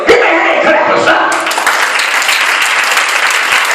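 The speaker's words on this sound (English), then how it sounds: "Give me a hand clap or something." A church congregation breaks into loud, dense hand clapping mixed with murmured voices, swelling and carrying on steadily.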